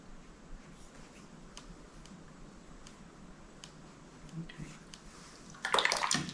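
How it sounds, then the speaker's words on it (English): A watercolour paint brush is swished in a water pot, a faint soft sloshing and light clinks near the end, close and quiet with no talk. "I'll wash my brush"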